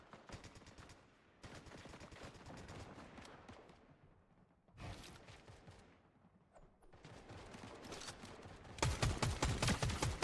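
Bursts of rapid gunfire from a Fortnite competitive match, sharp repeated cracks in several volleys separated by short lulls, with the densest and loudest burst at the end.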